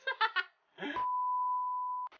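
A timer during a candy kissing challenge gives one long steady electronic beep lasting about a second, with a short blip at the end, just after a few quick spoken words and a muffled bump.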